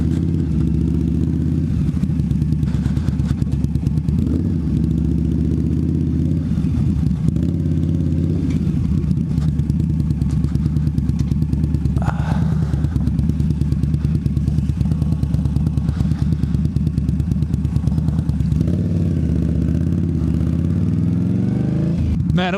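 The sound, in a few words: Indian Scout motorcycle riding off-road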